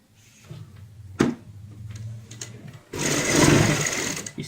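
A sewing machine stitches along a zipper on a round cushion cover, starting with a short burst and then a steady run, pausing, and finishing with a louder, faster continuous stretch of stitching.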